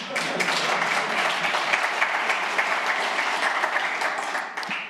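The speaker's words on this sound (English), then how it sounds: "Very kind of you to clap for that" An audience at a technical talk on Polars and time series applauds steadily, a dense, even wash of clapping that holds for several seconds.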